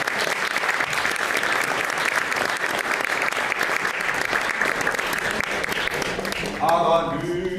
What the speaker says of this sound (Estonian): Aga suur aplaus veel kord.